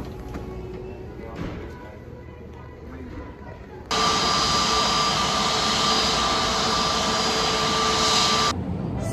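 Airport ambience with jet engine noise, first a low rumble, then a loud steady whine and hiss cuts in and drones on evenly before stopping abruptly near the end.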